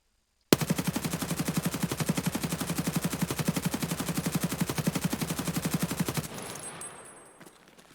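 An RPK light machine gun in Escape From Tarkov fires one long sustained automatic burst, rapid evenly spaced loud shots for nearly six seconds after a brief silence, then the report rings out and fades.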